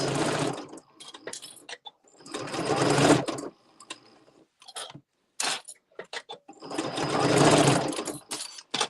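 A sewing machine stitches a plush Fair Isle cuddle wrap in several loud, fast-running bursts separated by short pauses and light mechanical clicks.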